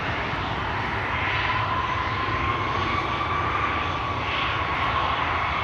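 An Embraer 175 jet at Schiphol Airport produces a steady, continuous engine roar at moderate distance, with a faint rising whine running through it and no voices.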